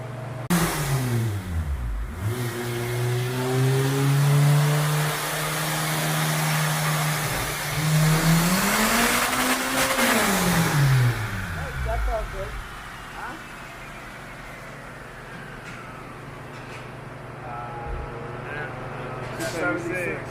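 A supercharged, K-swapped Honda Civic coupe engine revs hard on a dyno and holds high, pitch sweeping up and down in long pulls, loud and close with a constant droning hum underneath.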